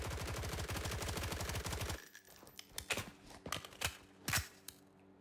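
An M4 rifle fitted with a grip and flash hider fires in Blackhawk Rescue Mission 5: a fast, sustained automatic burst, then a pause followed by scattered single shots and fainter reports.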